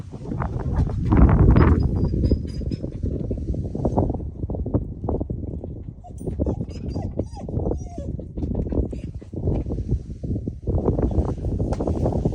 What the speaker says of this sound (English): Super windy, super crazy